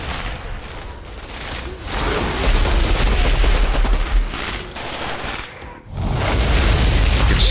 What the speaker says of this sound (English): Down! Fucking grenades.